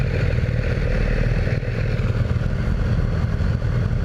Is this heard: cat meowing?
no